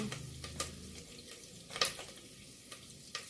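Cumin and curry leaves frying in hot oil give a quiet, steady sizzle with a few sharp crackles and pops scattered through it.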